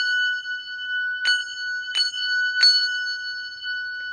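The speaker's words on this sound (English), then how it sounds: "Your index finger holds it together, and the 2 bells ring at the same time." Two handbells rung together in octaves sound a sustained, shimmering chord, struck three times at even intervals, each strike adding to the lingering tone. No voices.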